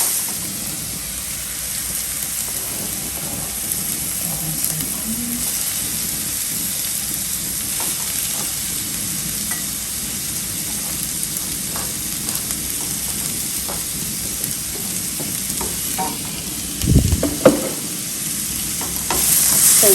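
Onion frying in a pan while being stirred, a steady soft sizzle throughout with occasional scraping stirs, and one louder clatter near the end.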